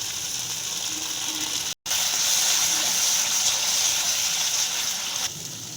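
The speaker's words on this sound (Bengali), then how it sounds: "এবার আমি একটু জল দিয়ে দেবো গ্রেভির জন্য" Water poured into frying masala in a pan while making gravy for Bengali-style chhanar kofta, a steady close hiss and gush with a brief break, alone without talk.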